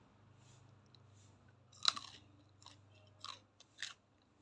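Crunchy dry macaroni snack being chewed up close, several sharp crisp crunches in irregular bursts separated by quiet pauses, over a faint low background hum, with no talking.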